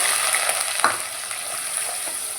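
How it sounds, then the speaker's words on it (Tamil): Onions sauté in hot oil that already holds mustard seeds, fennel and cumin, with a loud, continuous close-up sizzle and a stirring scrape or two, no voices present. "நல்லா வதக்கிக்கலாம்."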